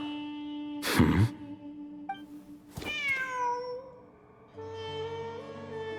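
A cat in the video game Genshin Impact meows twice, a short cry and then a longer, falling, drawn-out one, clear and close over soft game music.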